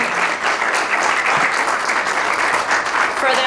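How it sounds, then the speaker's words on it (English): Audience applause at a university infrastructure scholarship competition, a steady dense clapping from a crowd that fills the whole stretch, loud and continuous without a break. "Let's give all 6 teams a big round of applause"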